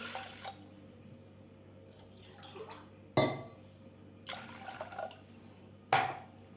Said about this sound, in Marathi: आता यामध्ये घालायचं आपल्याला या ग्लासानं दीड ग्लास पाणी घालायचं आहे